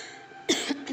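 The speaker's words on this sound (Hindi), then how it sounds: "सॉरी खांसी आ रही है" A woman gives two quick coughs close by, the second following soon after the first, with quiet room tone before them.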